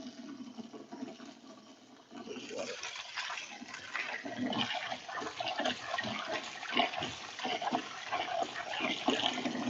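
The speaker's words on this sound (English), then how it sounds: "I'm just gonna throw that dirty water away and then wash it with the new" Starchy water is poured off cooked craft noodles and fresh water runs in to rinse them, a close splashing and gushing that grows busier after a couple of seconds, with kitchen clatter.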